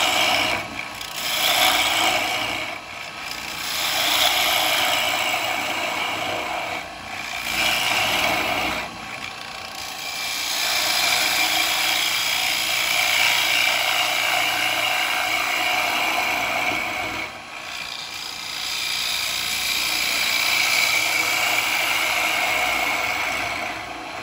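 Wood being hollowed out on a woodturning lathe, a continuous scraping, rasping cut over a steady mechanical hum, with brief dips as the tool lifts off, close and fairly loud.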